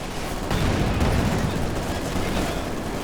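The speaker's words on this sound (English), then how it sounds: "Artillery barrage in the center, preventing the shock troops" Artillery barrage in a Company of Heroes 2 match, a dense continuous rumble of blasts and gunfire with no distinct gaps, loud and close.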